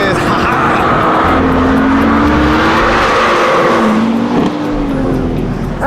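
BMW M2 (F87) sliding sideways around a race track, its engine howling with wavering pitch and tires squealing continuously, loud and close, while people talk over it.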